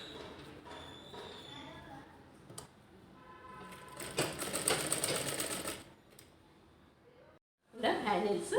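A sewing machine stitches a bag made from woollen waste in short bursts, a fast rattling needle clatter rising and stopping between pauses, with quiet handling noises and a voice speaking in between.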